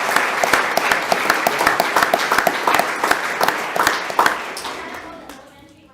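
At a school board meeting a roomful of people gives students another round of applause, crisp close claps forming a steady rhythm that tapers off toward the end.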